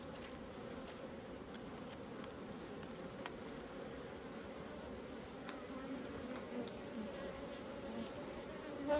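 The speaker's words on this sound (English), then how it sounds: "And these are sticky bees." Steady, dense buzzing of many bees, a continuous drone with no talking, close and even throughout.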